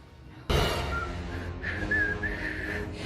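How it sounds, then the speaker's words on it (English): Someone whistles a thin, wavering tune after a sudden onset of room noise, the notes sustained and fairly quiet. "I'm whistling"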